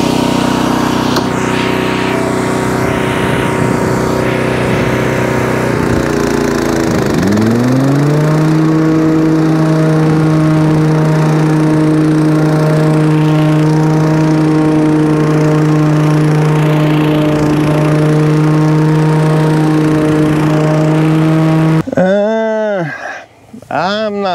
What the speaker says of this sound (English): It is really making the mower struggle to propel forward because this bluegrass is so thick right here.